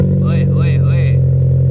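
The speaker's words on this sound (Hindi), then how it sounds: "अब जरा गाड़ी स्टार्ट करके इसकी आवाज़ तो चेक कराएं।" A Toyota Corolla with a chambered, straight-pipe exhaust runs at a loud, deep, steady idle rumble close by, while someone briefly talks over it.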